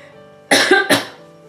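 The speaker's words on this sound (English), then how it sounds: "So I am coughing today" Two quick, harsh coughs close to the mic, one right after the other, with quiet room tone before and after.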